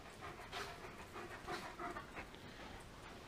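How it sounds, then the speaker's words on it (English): Two dogs pant rapidly and steadily close by over low background noise, with no talking. "You being good puppies?"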